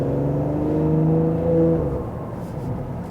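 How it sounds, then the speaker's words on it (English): Porsche Panamera Hybrid Executive, 2017/2018, under hard throttle while driving: a smooth, refined engine and exhaust note rising in pitch, heard from inside the car for a few seconds. "you can still hear that refined sound, of course, when you hammer the throttle"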